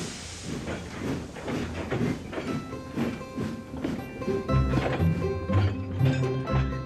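A video game train clanks and hisses as an engine buffers up to a slow goods train, with rhythmic metallic knocks and a low rumble building toward the end.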